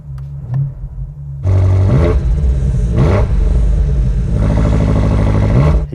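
A BMW 8 Series Competition Coupe with adjustable exhaust: a brief starter whir and quiet idle, then a loud engine catch and a steady, near rumble broken by three sharp revs.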